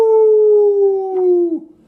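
A voice imitates wild things howling at the moon during a reading of Where the Wild Things Are: one loud, close, sustained howl lasting about a second and a half, slowly falling in pitch before breaking off.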